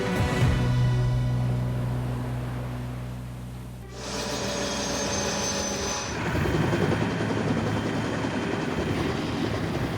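A helicopter carrying a research team to an offshore platform drones with a steady whirring roar that shifts in tone as it passes, loud and continuous with no voices.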